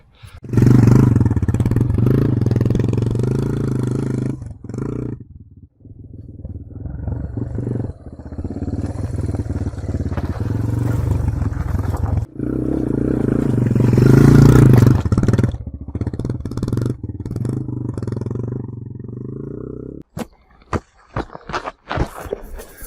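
A Yamaha AG200 motorcycle climbs uphill under clutch control, its engine droning and surging with clattering and scraping over rough ground, loud and close, before dropping off into scattered knocks near the end.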